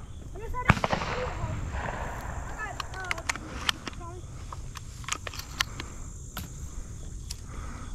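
Shotgun blasts ring out during a Georgia dove-hunting season opener: one sharp, loud shot early on, then several fainter pops scattered across the clip, with birdsong and faint voices in the background.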